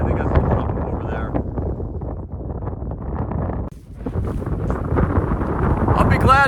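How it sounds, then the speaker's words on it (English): Strong, gusty wind roars steadily across a microphone on an exposed mountain trail in the gap between two peaks, loud and close throughout, briefly dipping once before building again, with no clear speech. "I'll be glad to get out of this wind. It's blown me sideways several times."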